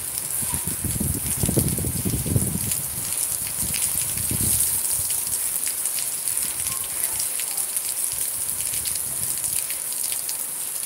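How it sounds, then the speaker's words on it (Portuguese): Rain pouring in Cape Verde, a steady broadband hiss of water falling and splashing on surfaces throughout, with some low rumbling noise early on and faint voice-like murmurs in the background. "que chuva você está caindo na Cabo Verde"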